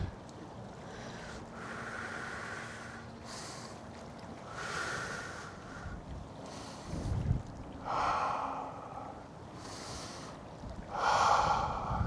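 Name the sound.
breathing in and out during exercise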